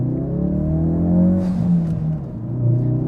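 Ford 2018 Focus RS with its 2.3-liter EcoBoost turbocharged four-cylinder engine, lowered on its suspension, revving loud and close with a rising and falling harmonic drone over a deep rumble.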